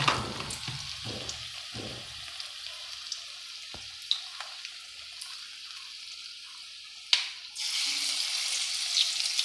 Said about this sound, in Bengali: তেলটা একটু কমিয়ে দিই, কেননা পাতাটা ভালো করে ভাজা হতে হবে,